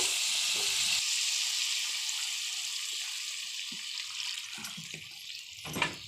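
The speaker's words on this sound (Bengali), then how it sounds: "এখন আমি এর মধ্যে জল দিয়ে দেব ঝোলের জন্য।" Water poured into a pan of frying spice paste for fish curry, a loud hissing sizzle with running water that gradually settles into a softer bubbling simmer, with a few small clinks near the end.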